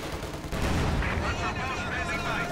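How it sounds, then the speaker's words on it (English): Gunfire and tank cannon fire in Company of Heroes 2, with German 75mm and 50mm guns on Panzer IVs firing alongside machine guns; a dense, loud, continuous barrage of shots and booms that swells after a brief quieter start. "75mm guns and 50mm guns they're firing for the Germans."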